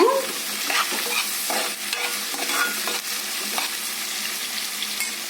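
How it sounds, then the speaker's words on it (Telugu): Chicken curry for yellow chicken being stirred in a frying pan, a close sizzle of hot oil with repeated scraping and knocking of a spoon against the pan, steady throughout with no talking. "ఒకసారి కలుపుకుందాము."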